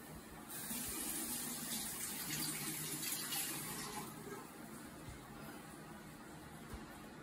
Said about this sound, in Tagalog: Una, basain po natin ang kamay.